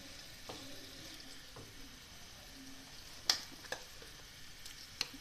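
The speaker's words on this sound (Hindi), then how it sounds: "इसको भी फ्राई करते हैं।" Mutton liver (kaleji) sizzling in a pan, an even hiss with a few faint utensil taps and three sharp clinks near the end, no voices.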